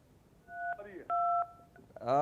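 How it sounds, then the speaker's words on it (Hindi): Phone keypad tones sound as buttons are pressed during a live televised call-in, two clear beeps in quick succession, and a voice starts up at the very end. "कीपैड आपका दब रहा शायद।"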